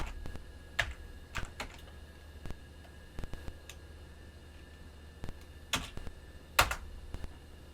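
A computer keyboard typing out an IP address, with sparse, irregular close key clicks and a few louder strikes over a quiet room hum.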